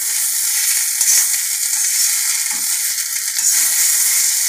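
Chunks of elephant foot yam fry with masala in a kadai over a medium flame, a steady, dense sizzle with occasional stirring scrapes and no voices.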